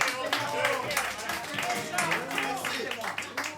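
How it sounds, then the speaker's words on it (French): Scattered clapping from a small audience at a prize-giving, where a winner was just announced with a score of 395; the applause is moderate and sits under overlapping chatter and talk. "Et on l'applaudit également, hein."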